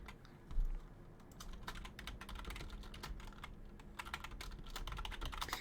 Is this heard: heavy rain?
no